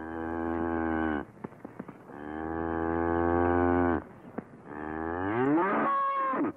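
A cow being led up a wagon way in a pioneer-era farm setting lets out three long, loud, deep moos, each drawn out and separated by short pauses, with no talking over them.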